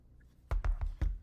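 A few keys pressed on a computer keyboard, four distinct close clicks in quick uneven succession after a brief quiet moment.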